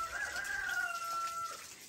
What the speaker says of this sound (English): Sorry about the rooster crowing.